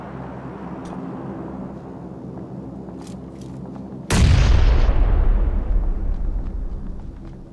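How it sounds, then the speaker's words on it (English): A single heavy grenade blast in PUBG bursts out of a steady, low rumbling background, loud and close, with a long decaying roar afterwards. "Ours go boom, make big cloud."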